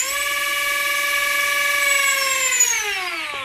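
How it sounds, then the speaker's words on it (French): A small electric motor on a 4S battery whines at high speed with a steady, sharp pitch that dips slightly near the end. "on entend vraiment que le moteur tourne bien plus haut, bien plus vite"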